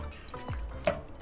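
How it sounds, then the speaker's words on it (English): Cold salt-water brine poured over raw chicken breasts in a dish for brining, a faint, low trickle and splash with a few soft drips and knocks. "So we're gonna pour our cold salt water over these guys."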